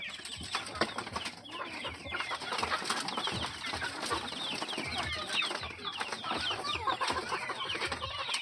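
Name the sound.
native chickens clucking at feeding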